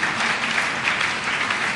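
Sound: congregation applauding

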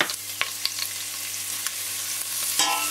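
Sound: bacon frying in hot oil in a large pot

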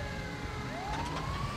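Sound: ambulance siren in Grand Theft Auto V video game

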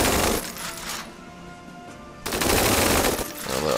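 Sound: gunfire from attacking units in video game Tiny Metal

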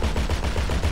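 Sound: gunfire at aircraft in GTA 5 video game

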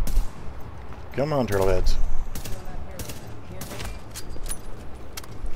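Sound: gunfire in a video game

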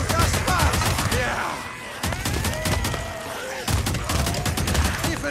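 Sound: gunfire from the video game Days Gone

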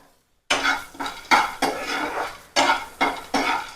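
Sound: roasting peeled peanuts in a pan

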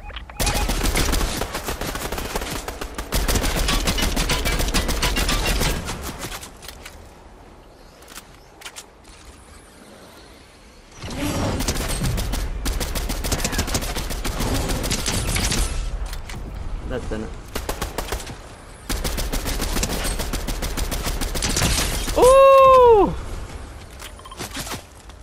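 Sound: gunfire from players shooting in the video game Fortnite

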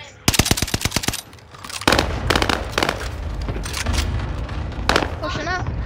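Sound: SMG gunfire in the video game Warzone

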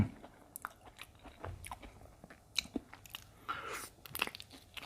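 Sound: eating ripe Thong Pha Phum durian flesh

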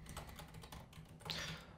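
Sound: typing on a computer keyboard

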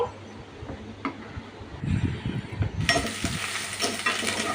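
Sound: tempering sizzling in hot oil

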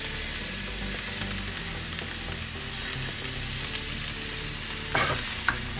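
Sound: stirring and frying ginger and garlic in a pan

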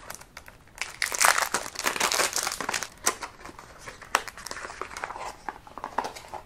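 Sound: unwrapping perfume packaging

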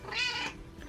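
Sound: cat meowing

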